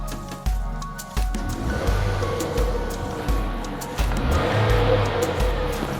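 A used car's engine revs as the throttle is pressed during a check of the motor, rising and falling in several close, loud surges with mechanical clatter.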